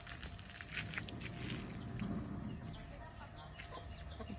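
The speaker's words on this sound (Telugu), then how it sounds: "చిన్న కోడి పిల్లలు కూడా ఉన్నాయి." Hens and small chicks cluck outdoors among bushes on a farm, a busy, continuous mix of soft clucks and peeping chirps at moderate distance.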